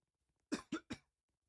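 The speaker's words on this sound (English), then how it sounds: "Sorry, I had a little cough there." Three quick, sharp coughs in a row, close to the microphone, followed by silence.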